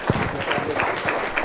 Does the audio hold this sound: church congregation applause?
yes